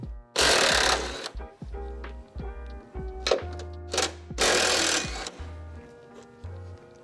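A 14mm socket on a ratchet or air tool spins off the upper shock mount nuts at the shock tower of an NA Miata, with two loud buzzing bursts, scattered metallic clicks and clunks, and low knocking in between.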